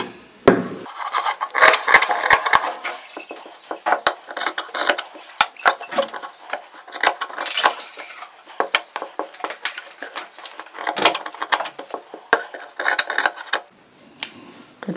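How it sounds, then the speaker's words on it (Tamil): Scissors cut cloth for a layered frill chudidar neck piece, making close, repeated crisp snips and rasping slides of the blades through the fabric in uneven bursts, with short pauses between strokes. "இப்போ இந்த பீஸை நம்ம உள்ளே இருக்கிறத கட் பண்ணி எடுத்துக்க போகிறோம்"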